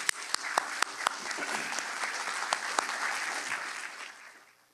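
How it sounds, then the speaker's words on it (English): A crowd at a scholarship award ceremony applauds loudly and steadily, with a few sharp claps standing out, then the clapping fades away toward the end. "Let's give them a big round of applause."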